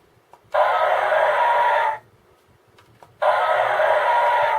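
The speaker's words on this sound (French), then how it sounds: "voilà le bruit du dinosaure" A Zyuden Sentai Kyoryuger DX Plezu-Oh toy emits two tinny electronic dinosaur roars, each lasting over a second, with a short gap between them and small clicks around them.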